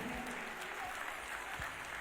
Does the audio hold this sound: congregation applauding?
yes